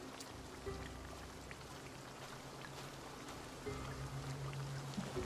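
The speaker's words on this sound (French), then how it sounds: "Est-ce que c'est la pluie?" Soft, steady rainfall in the video game Assassin's Creed Valhalla, scattered drops pattering on surfaces, quiet and distant, with a low ambient hum beneath and no speech.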